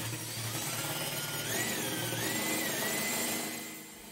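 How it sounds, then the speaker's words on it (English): A 1700 RPM power drill spinning a homemade duct cleaning brush whirs up and runs steadily with a spinning, rattling tone, pitch wavering slightly, then begins to wind down at the end. "Let's test it with a 1700 RPM drill."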